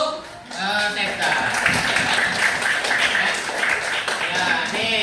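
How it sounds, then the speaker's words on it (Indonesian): Primary-school classroom applause for a student, a dense burst of clapping from the class that starts after a brief pause and carries on steadily, with a few voices mixed in. "Tepuk tangan untuk Septa."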